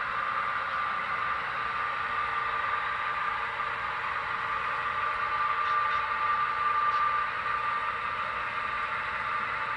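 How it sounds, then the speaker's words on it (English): A model train rolls along a layout toward the helix on its way down to staging, giving a steady, continuous mechanical hum and rumble with no talking. "The train's headed for the helix. It's going to go all the way down to staging"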